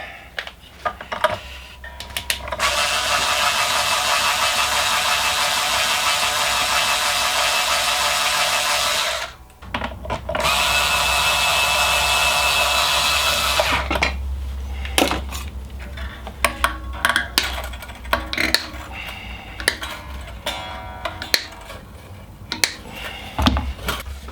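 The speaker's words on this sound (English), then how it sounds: "Never use power tools on a guitar unless it's your own." A loud, steady high-pitched whine of a power tool working on a Squier Strat SE electric guitar runs for several seconds, stops briefly, runs again, then gives way to scattered clicks and knocks.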